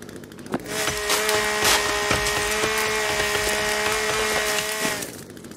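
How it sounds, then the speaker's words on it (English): A chainsaw cuts through wood in the survival game The Forest, its engine droning steadily and high for about four seconds, loud and close, before cutting off. "Let's use our chainsaw."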